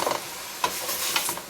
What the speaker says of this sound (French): je mets mes champignons et je m'occupe de ça et on continue la suite. Voilà, hop, on y va, on fait cuire.